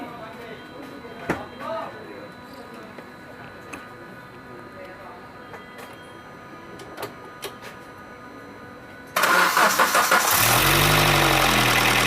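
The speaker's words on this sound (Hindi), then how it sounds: "तो अभी देखते हैं सेल्फ मार के कि ये गाड़ी चालू हो रही है क्या" A Suzuki SX4 with jumped engine timing cranks on its starter while trying to start. The loud, steady churning begins abruptly after a stretch of quiet background with light talk and continues without catching.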